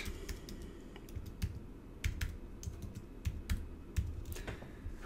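Quick, uneven keystrokes on a computer keyboard as a company password is typed in, a close run of clicks and taps with brief pauses over about five seconds, no voices.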